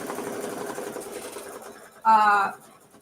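Embroidery machine stitching a placement line for an appliqué mini-quilt, a short loud burst of rapid mechanical stitching lasting about half a second after quieter background murmur.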